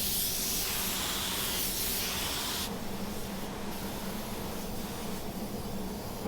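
Spray gun sprays flat clear coat inside a van, a loud continuous hiss that drops slightly partway through and carries on steadily, with no talking.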